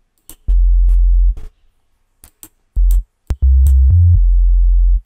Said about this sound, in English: So next up, I have the sub bass, which sounds like this. I actually got it from Nexus.